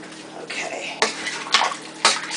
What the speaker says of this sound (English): Just giving it a good mix.